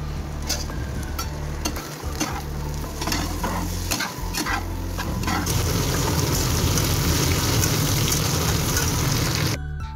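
Snake gourd pieces fry in a pan with a dense close sizzle while a spatula scrapes and taps in quick irregular strokes, the crackle swelling louder toward the end, with no talking.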